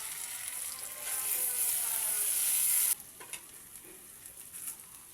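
Spice paste dropped into hot mustard oil, a bright hissing sizzle that swells for a few seconds then cuts down to a softer crackle, close and steady with no voices.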